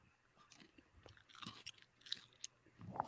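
Someone chews crunchy pizza close to a microphone, giving soft, irregular crunches and mouth noises that are faint and dry, with no talk.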